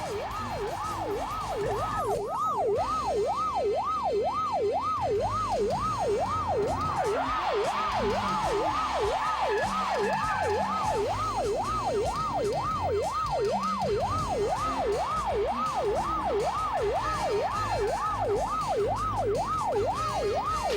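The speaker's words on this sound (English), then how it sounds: "there goes a police car" A wailing siren cycles steadily up and down for about twenty seconds, loud and continuous over a faint road rumble, with no talking.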